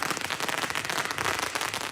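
A long string of firecrackers hung from a crane bursts outside a temple during a Lantern Festival celebration, a dense, continuous crackling barrage of rapid pops with no pauses.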